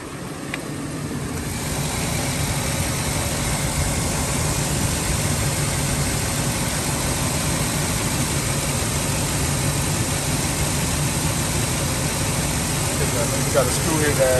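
A repaired Ford F-350 pickup with the 5.4 engine idles nearby, a steady, loud, even rumble that starts up early and holds without stumbling to the end.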